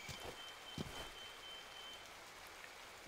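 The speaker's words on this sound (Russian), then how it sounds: "О, сильный ливень идет." Heavy rain falls in a stealth shooter video game, a steady, even hiss of downpour with a few soft thuds, heard alone at low level.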